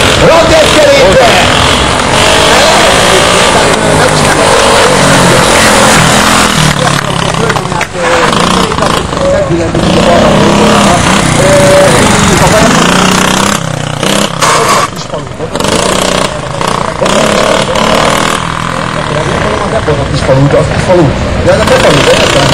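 Drag bike motorcycle engines roar and rev at a 2007 motorcycle meet in Tokaj, Hungary, during a junior-category drag race, loud and continuous for the whole stretch under constant excited commentary and crowd talk.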